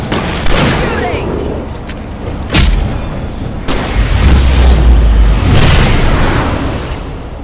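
Gunshots ring out in Alan Wake Remastered, a few sharp cracks spaced seconds apart amid heavy booming rumbles and a loud, busy action scene, with voices talking over the din.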